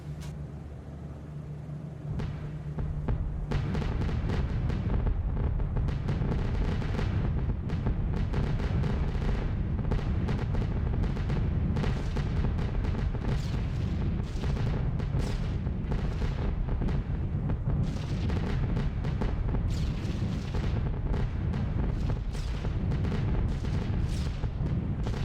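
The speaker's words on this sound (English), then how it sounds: "Okay, here comes more flak." Anti-aircraft flak keeps bursting around a B-17 bomber crossing the Ruhr Valley in B-17 The Mighty 8th, heard as a continuous loud rumble of booming explosions over the heavy drone of the aircraft engines.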